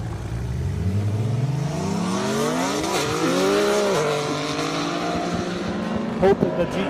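A Nissan GT-R race car with a listed 1,047 horsepower makes a full hard pass at an airstrip, the engine climbing through gears loud and steady as it accelerates, under a commentator's excited talk.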